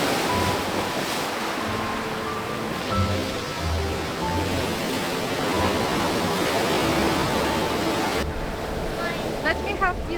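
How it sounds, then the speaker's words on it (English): Surf rolling onto the Black Sand Beach along the Road to Hana, a steady broadband wash of waves with wind buffeting the microphone throughout, fairly loud and continuous, with faint bird chirps near the end. "The Black Sand Beach is not a place you come across every day."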